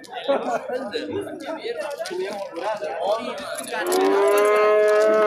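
Several people chatter and laugh nearby at a bull market in Sariosiyo, Surkhandarya, Uzbekistan, then a cow lets out a long, loud, steady moo that carries to the end.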